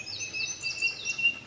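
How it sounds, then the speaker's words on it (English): Bobwhite quail call back and forth, faint clear whistled notes repeating over quiet outdoor background. "I'm gonna go ahead and let you just listen to these birds call back and forth."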